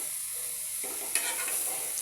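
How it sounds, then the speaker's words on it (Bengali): Potatoes and lentils sizzle in a pan while a utensil stirs and scrapes through them, a close, steady frying hiss with a brief clatter partway through. "ডাল দিয়ে আলু দিয়ে রান্না করতেছি"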